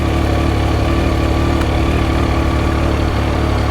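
A motorcycle engine idles steadily and close by, a constant low rumble with a faint tick partway through.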